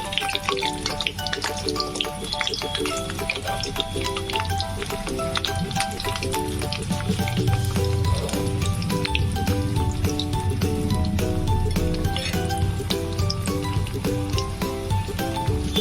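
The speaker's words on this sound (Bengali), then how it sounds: "আমি একটুখানি নাড়িয়ে দিচ্ছি শুধু।" Vegetable chops sizzling in hot oil in a pan and being stirred, a dense continuous crackle and spatter, close and fairly loud throughout with no talking.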